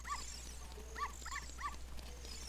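Small dog in The Legend of Zelda: Ocarina of Time yipping four times in short, clipped barks, one early and three close together, over a steady low game hum.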